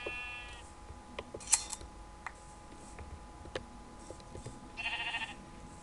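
Minecraft sheep in a video game give a short bleat at the start and a longer wavering one near the end, between scattered clicks and ticks over quiet game ambience.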